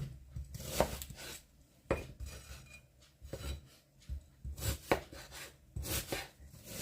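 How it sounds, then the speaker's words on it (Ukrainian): A knife chops an onion steadily on a cutting board, sharp irregular knocks with soft scraping between strokes, close and moderately quiet. "І так само нарізаю і цибулю."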